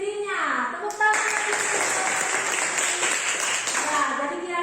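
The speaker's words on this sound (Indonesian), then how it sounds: "Tepuk tangan." Children clapping together in a classroom lesson, a busy burst of applause lasting a few seconds that follows a voice speaking and trails off as talk resumes.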